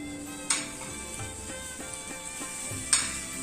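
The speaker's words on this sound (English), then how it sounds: "We are going to saute the pasta to give it a nice flavor" Penne pasta sautéing in a pan with oil, butter, garlic and chilies, a steady close sizzle with soft stirring and two sharp metallic clinks of a utensil against the pan.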